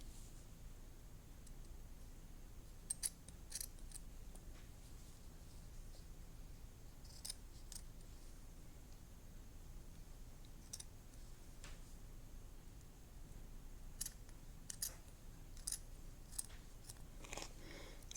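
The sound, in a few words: scissors cutting felt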